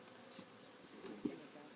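Faint, steady buzzing of honey bees drifting through quiet background during a hive opening, with a few slightly louder passes and no voices.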